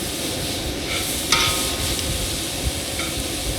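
Pork with ground red chili searing in a hot pan, a steady dense sizzle running throughout with a few brief clanks of a utensil against the pan.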